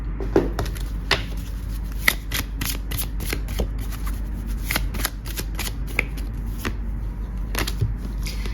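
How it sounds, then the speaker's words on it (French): Tarot oracle cards being shuffled and drawn by hand in a quiet room, a steady run of crisp papery riffles and flicks with sharper snaps scattered throughout, close and clear with no talking. "Je vais prendre une carte de l'archange."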